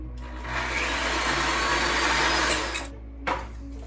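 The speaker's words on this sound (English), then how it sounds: "we just start with the cream cheese and butter together first, and you're gonna blend those until they're really well mixed together" An electric mixer whirs steadily for about two and a half seconds, blending cream cheese and butter for cupcake frosting, then cuts off, followed by a brief second burst, close by with no talk.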